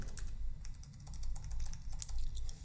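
Keys clatter on a computer keyboard as shortcuts are typed during a Lightroom adjustment-brush edit, a steady run of close, light taps with no talk.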